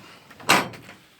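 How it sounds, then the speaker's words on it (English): Wooden shed doors on an allotment being thrown open, one quick loud scraping swing and knock near the microphone, alone with no talk. "we can just throw these doors open"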